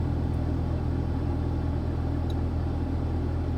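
Long dolly truck's engine rumbles low and steady close by, a constant deep drone with no break.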